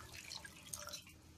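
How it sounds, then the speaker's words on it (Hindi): Water being poured into a pan while making vegetable upma, a brief, faint splashing trickle heard alone. "अब डाल देंगे इसमें हम पानी"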